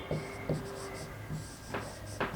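Pen or marker writing on paper or a board during a lesson, a few short scratchy strokes in quick bursts, close and quiet, with no talking over them.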